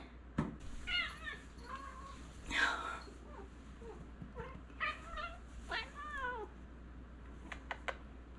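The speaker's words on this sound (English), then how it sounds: "This is my cat, Yoda." An 11-year-old pet cat meows several times indoors, with drawn-out wavering calls spread over several seconds, some near and clear, and quiet sounds in between.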